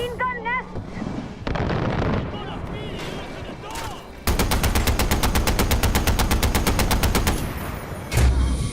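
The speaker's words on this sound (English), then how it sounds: "do something about those machine gun nests!" Machine gun nests in a Far Cry 4 battle fire loud, rapid, continuous bursts of gunfire, with shouted voices and other game effects in the first seconds.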